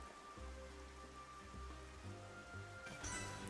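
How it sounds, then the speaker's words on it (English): Rain falling in the video game Xenoblade Chronicles, a soft steady patter over sustained game music with low droning tones, quiet and continuous, with a brief brighter burst near the end. "It's raining, but I don't know if it counts as thunder."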